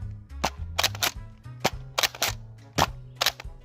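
A Nerf N Series Pinpoint blaster fires foam darts in a quick series of sharp, close pops, roughly eight shots in uneven bursts, each with a brief mechanical whir between them.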